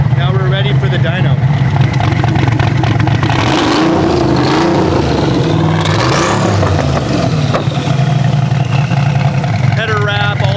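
Loud, close engine roar from a Mercedes 190E EVO II widebody on a dyno, rising and falling in revs throughout, with people talking over it.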